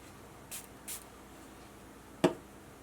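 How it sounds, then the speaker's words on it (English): Two quick, faint spritzes of water from a spray bottle during rubber stamping, close together, then a soft thud a moment later in an otherwise quiet room. "spritz some water on"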